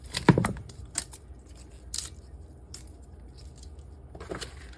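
Stems being ripped by hand from leafy cooking greens, giving a few brief crisp tearing and snapping bursts near the start and again later, close and fairly quiet, with no one talking.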